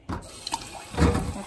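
Water runs and splashes into a container, starting abruptly and swelling louder near the end, with faint clinks in between.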